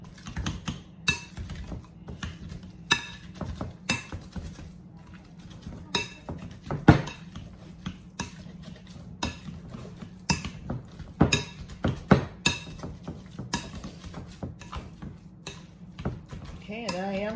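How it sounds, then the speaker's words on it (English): Cooked sweet potatoes are mashed by hand with an old-school masher in a bowl, giving repeated close knocks and clinks at an uneven pace over a low kitchen hum, with a voice speaking at times. "Now I'm gonna go and start mashing"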